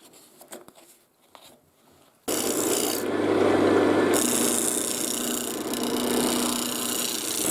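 A wooden sphere spun on a lathe is sanded with 220-grit paper, a steady loud rasping hiss that starts abruptly after a few quiet seconds of faint clicks and runs continuously to the end.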